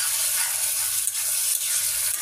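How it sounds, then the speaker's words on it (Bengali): Spice paste frying in a pan for a chickpea dish, a steady close hiss and sizzle with faint crackles and occasional stirring scrapes, no voices. "মশলাটা কষিয়ে নিচ্ছি"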